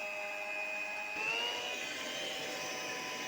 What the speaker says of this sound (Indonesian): Kemudian mixer talasnya hingga mengembang, kira-kira selama 5 menit saja.